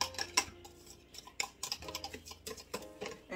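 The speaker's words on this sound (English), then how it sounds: "then I'll give this a good stir" A whisk or spoon stirs homemade waffle batter in a bowl, with close, irregular clinks and scrapes against the sides repeating throughout.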